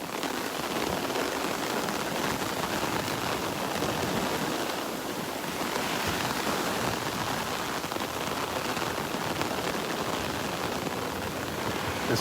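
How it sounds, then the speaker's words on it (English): Heavy rain from Tropical Storm Elsa pouring on Vanderbilt Beach in Naples, Florida, a dense continuous roar of drops with surf mixed in, loud and unbroken throughout. "Raining harder, as you can hear."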